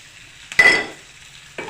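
Chopped garlic, capsicum, tomato and onion are stirred in a hot pan for breakfast pasta, giving a sudden close burst of sizzle and scraping that fades over a second before another brief stir.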